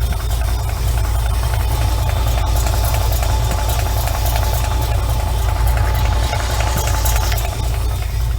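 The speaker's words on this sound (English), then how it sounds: "sounds like an engine to me" A 1968 Chevelle engine idles steadily up close, a constant low rumble with vibration holding even throughout, no talking over it.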